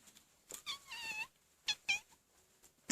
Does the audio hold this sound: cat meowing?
yes